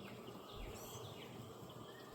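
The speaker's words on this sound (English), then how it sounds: "See a lot of bees" Honeybees working inside a hive, a steady soft buzzing drone, close and faint with no talk.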